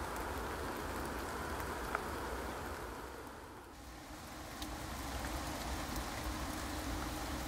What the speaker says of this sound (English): I think the rain is starting to get ever so slightly heavier